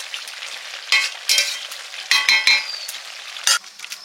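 Snakehead fish curry with potato and eggplant sizzling in a home kitchen pan, a close hiss broken by several sharp stirring scrapes and clinks of a spatula, with no voices.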